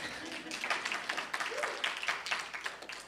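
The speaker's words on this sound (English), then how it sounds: "I wasn't expecting the applause, but it's a nice surprise." Quiet audience applause at an artist talk, a soft, steady patter of many hands clapping from across the room, fairly distant and brief.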